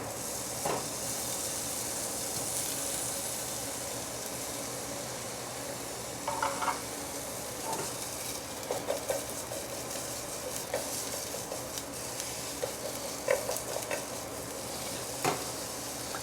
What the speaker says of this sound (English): So first we're going to heat up the Spam.